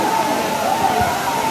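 Waterfall at Agaya Gangai in Kolli Hills, a constant broadband rush of falling water with a few splashy thumps, loud and continuous.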